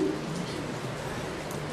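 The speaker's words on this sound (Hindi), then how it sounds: "कबूतर है, उनकी तो आदत होती है गुटरू गू करने की" A pigeon coos softly and low against a dull background hum, brief and fairly faint.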